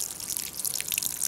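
Water poured onto porous lava rock makes a faint, soft trickling and fizzing hiss with tiny scattered drips. It is brief and quiet, with no talking.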